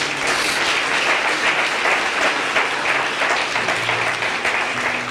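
Audience applause during a church sermon, a full crowd clapping steadily and loudly throughout, with a faint hum of voices underneath.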